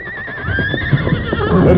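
A horse whinnies loudly and shrilly up close, its wavering neigh running over scuffing hooves and stamping, a radio drama sound effect.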